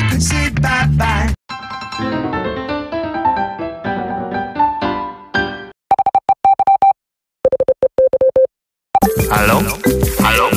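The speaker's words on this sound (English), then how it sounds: "The phone is ringing and you don't know why." Phone ringtone: a melodic chime sequence first, then repeated electronic beeping tones in short bursts separated by silences, loud and close, with a noisy burst at the start and end.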